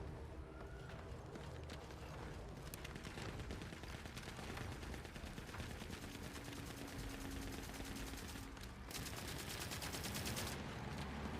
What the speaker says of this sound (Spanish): ¡Bonita ametralladora!